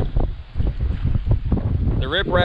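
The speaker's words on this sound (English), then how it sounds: "I'm trying to like figure out how to do this without the wind being that bad" Strong wind buffeting the microphone outdoors beside a lake with rocky riprap shoreline, a loud continuous rumbling roar with gusty surges, and someone talking underneath.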